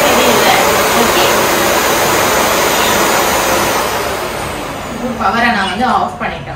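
A Philips FC9570 bagless vacuum cleaner runs on its high setting, giving a loud, steady broadband roar that holds through most of the stretch, with a person's voice talking over it near the end.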